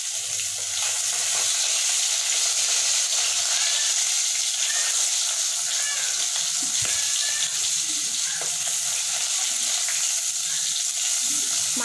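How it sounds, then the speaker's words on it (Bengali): Fish pieces frying in hot oil give off a steady, close crackling sizzle that runs unbroken throughout, with a few faint clinks and no speech. "মাছ ভেজে পরে কাল্লাগুলো ভেজে নেবো"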